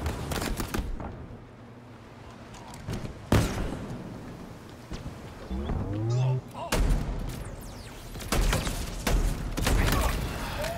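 Shotgun blasts in the Halo Infinite multiplayer mode Combined Arms, several sharp booming shots spaced irregularly amid game effects, with a voice talking in between.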